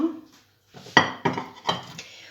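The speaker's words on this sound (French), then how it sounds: "Donc on mélange les pommes de terre, on mélange l'oignon" Potatoes and onion being mixed in a bowl for a Spanish tortilla, three or four distinct clinks and scrapes of a utensil against the dish after a brief pause, close and moderately loud.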